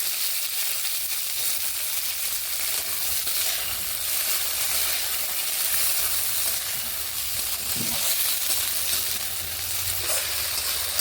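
Eggplant pieces frying in oil in a wok make a continuous, dense sizzling hiss, close and steady throughout, with no talking.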